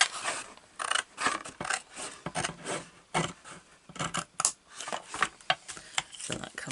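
Paper being cut with scissors for a homemade A5 stamp storage, a run of crisp, uneven snipping and rasping cuts, close, with a voice talking over part of it.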